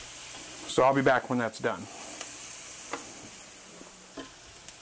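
Vegetables for rabbit tinga tacos sizzle steadily in a pan as they cook down, a soft continuous frying hiss with a short stir near the start and brief speech over it.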